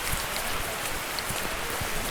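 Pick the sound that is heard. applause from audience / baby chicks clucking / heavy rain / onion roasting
heavy rain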